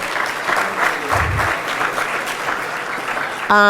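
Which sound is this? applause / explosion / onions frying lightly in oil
applause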